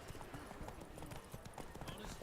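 Hooves of the horse in The Witcher 3 game, a rapid rhythmic clip-clop of galloping, heard steadily under a speaking voice.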